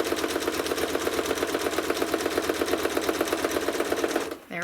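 Sewing machine stitching a quilt, a fast, even rhythmic chatter of needle strokes close by, running steadily for about four seconds before stopping abruptly, followed by a soft rustle.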